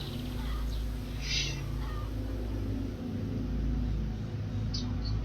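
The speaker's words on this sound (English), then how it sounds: "Oh, the birds." Bird calls in the Path of Exile video game, a few short chirps sounding faintly over a steady low game ambience.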